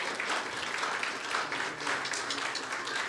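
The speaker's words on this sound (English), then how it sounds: "Let's clap for them." A church congregation claps for a group of children after their performance, a steady wash of hand claps lasting the whole few seconds at moderate volume.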